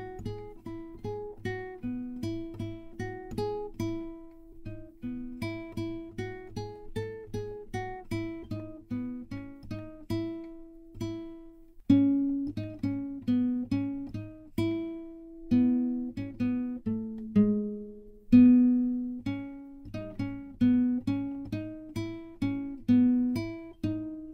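Guitar picking out the Yankee Doodle melody over a bass note pattern, note by note at a steady beginner tempo for over twenty seconds, clear and close with no speech.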